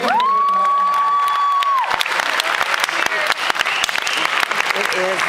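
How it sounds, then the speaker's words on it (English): An audience at a hypnotist show breaks into loud, sustained applause with scattered cheers, filling the room continuously while a steady tone fades out in the first two seconds. "Give them a big round of applause"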